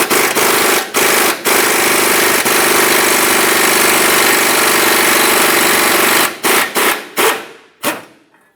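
A pneumatic impact wrench hammers loudly on a 17mm engine mount bolt of a Mitsubishi Lancer, a long continuous rattling burst followed by several short choppy bursts near the end.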